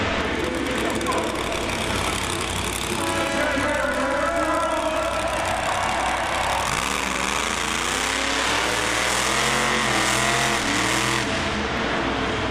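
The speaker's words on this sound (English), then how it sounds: "Out next, it's Jerry Beck in the awesome dump truck Dirt Crew." A monster truck engine at Bristol Motor Speedway revs hard and rises and falls in pitch over twelve seconds, loud and continuous, with an announcer talking over it.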